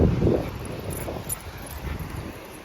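Excited dog whimpering and yipping at Hearst State Beach, California, a few soft whines near the start over wind and surf noise, fairly faint overall.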